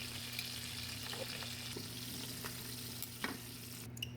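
Steady, faint sizzling of chicken frying in a pan, with a low hum underneath and a few soft clicks of stirring.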